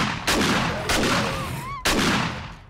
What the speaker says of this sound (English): I need to get headshots off on these guys.